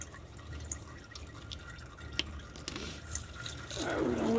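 Old engine oil draining from a Porsche 986 during an oil change, heard as a steady low trickle with scattered drips that grows louder and fuller toward the end.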